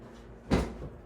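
A pickup truck's rear door opens with a brief soft latch click and thud after a Morimoto X3B third brake light install, a single near sound over quiet room tone.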